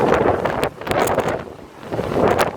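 Hurricane Irma's gusting winds batter St. Thomas, roaring as a continuous close, loud rush across the microphone that swells and eases in waves with no one speaking.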